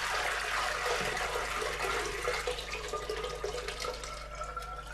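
Water poured onto powdery clay dust spread on a stone slab, mixed into mud for working; a steady, close splashing and trickling runs throughout without pause, with no voices.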